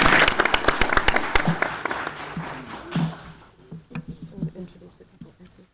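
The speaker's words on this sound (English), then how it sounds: "Let's give her another round of applause." An audience at a school board of trustees meeting claps loudly for a few seconds, the applause thinning into scattered claps before fading out.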